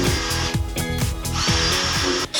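Power drill boring pilot holes into a fragile pine frame while fitting out a 4x4, a steady close whine punctuated by repeated rhythmic bursts as the bit bites and cuts through the wood.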